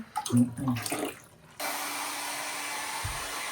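Water runs from a tap or shower onto a puppy during a bath, a steady hiss starting suddenly partway through after brief nearby talk and handling noises.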